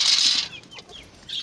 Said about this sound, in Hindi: कबूतरों को खोला जा रहा है।